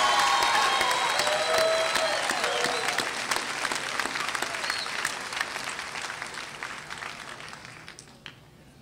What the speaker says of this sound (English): let's have another round of applause for the bachelor's degree students.